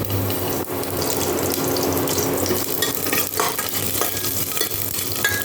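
Panch phoron and a green chilli fry in hot oil, a close, steady sizzle and crackle with the scrape of stirring running throughout, no talk.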